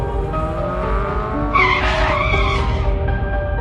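Animated truck screeching to a halt on a highway in a 3D horror comedy cartoon, a steady engine drone broken by a loud tyre skid midway, with no voices.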